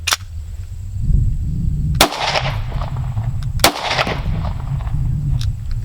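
Handgun shots fired at a safety vest strapped over a wooden board, three or four loud, sharp reports spaced a couple of seconds apart, each with a short ringing tail. No one speaks.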